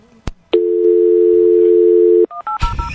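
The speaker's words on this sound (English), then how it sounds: "we're going to make the entire phone call on the air this time" A telephone call being placed: a short click, then a steady dial tone held for nearly two seconds, followed by a quick run of dialing beeps that breaks into noise at the end.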